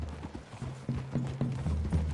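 Horse hooves clip-clop steadily in Red Dead Redemption 2, a close, regular rhythm of hoofbeats on a trail through trees with no talk over them.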